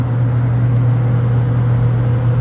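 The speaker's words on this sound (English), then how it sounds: "Sorry for the aeration noise." A loud, steady mechanical drone with a strong low hum from a grain dryer's aeration fan running continuously nearby during corn harvest.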